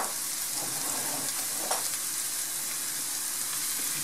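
Onion fries in hot oil in a pan for a mushroom omelette, giving a continuous, even sizzle close up, with one brief stir partway through and no talk.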